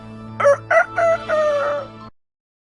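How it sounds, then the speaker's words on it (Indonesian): A rooster crows once, a loud cock-a-doodle-doo lasting about two seconds, up close and alone. "ayam Cendelaras segera menyerang dengan garang"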